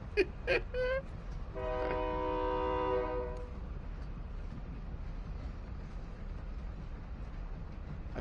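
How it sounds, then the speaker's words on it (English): A moving train in the video game Warzone gives a short horn or whistle blast near the start, then a steady mechanical rumble of rolling carriages that continues at moderate level. "I feel like my train is slowing down."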